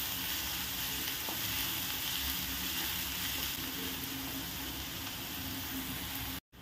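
Finely chopped onions sizzle in oil with cumin seeds in a pan, a steady close, continuous frying hiss with faint stirring throughout, cutting off abruptly at the end.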